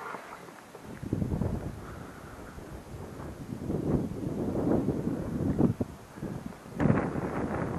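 Wind buffets a microphone on an exposed hilltop, producing irregular low rumbling gusts that swell and drop, with a strong blast near the end.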